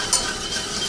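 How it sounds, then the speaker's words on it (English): Butter and flour whisked together into a roux in a pan for mashed-potato gravy, a short steady scraping stir with a faint sizzle underneath, close and alone. "we're going to whisk this together and make a roux"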